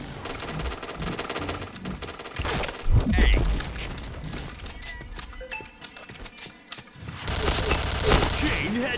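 Bursts of automatic gunfire and single shots from the video game Point Blank crackle in quick clusters with booming impacts and game sounds. A player talks intermittently between the volleys.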